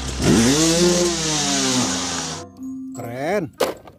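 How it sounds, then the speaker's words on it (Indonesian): Motocross motorcycle engine from a toy vehicle clip: a loud revving whine that rises and falls, then drops away before two shorter revving bursts near the end. "Motor cross."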